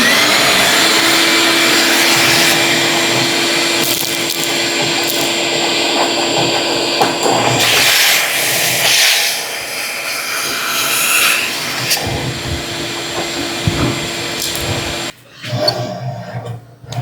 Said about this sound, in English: we'll get the vacuum, suck that all out